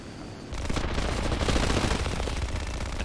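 A .30 cal machine gun on an Avenger Mk II aircraft in War Thunder fires a sustained rapid burst of loud, close gunfire that runs unbroken for over two seconds after a brief low rumble.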